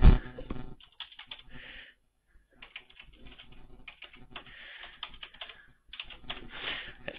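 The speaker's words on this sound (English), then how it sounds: "Let's put in a new one then" Someone types a new password on a computer keyboard in quick clusters of close, light key clicks, with a brief pause partway through and no speech.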